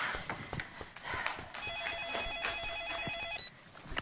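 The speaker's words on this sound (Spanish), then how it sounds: "contesta el teléfono" A telephone rings in a trilling, warbling burst lasting about two seconds, moderately close, over busy background noise and faint knocks, then cuts off abruptly.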